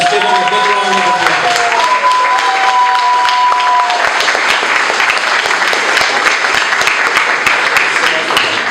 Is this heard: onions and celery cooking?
no